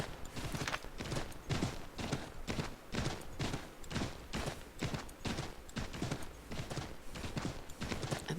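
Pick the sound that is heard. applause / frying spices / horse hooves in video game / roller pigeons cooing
horse hooves in video game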